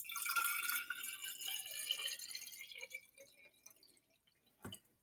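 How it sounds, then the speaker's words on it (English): Water poured from a tap into a plastic container for a sensory bottle, a bright rushing stream that tapers off over a few seconds into dripping, with a final knock near the end. "you're going to take your container and you're going to put water in it"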